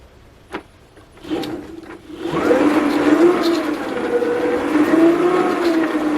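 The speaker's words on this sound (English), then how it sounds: "I'm going to back drive it through the wheels" A 1/3 scale RC car's V10 engine is turned over through its wheels rather than running on its own, starting quiet with a few clicks and then building into a steady, whirring mechanical drone with a wavering pitch. No speech is heard.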